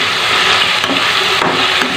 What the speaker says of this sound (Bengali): ভালো করে মশলাটা আমি কষিয়ে নেব।